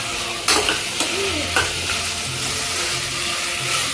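Potatoes and green peas frying in a pan for tomato bath, with a steady close sizzle and a few clanks and scrapes from a spoon stirring, and no speech.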